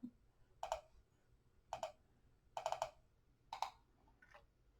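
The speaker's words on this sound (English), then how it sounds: "If we do a double click" Crisp computer mouse clicks sound close and quiet, coming in pairs and singles at a slow, uneven pace against near silence, with no talk.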